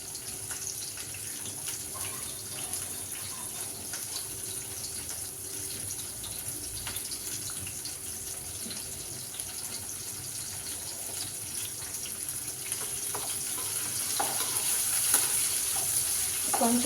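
Okra fries in oil in a pan over a high flame, giving a steady, moderately loud sizzle throughout, with faint clinks and stirring noises near the end.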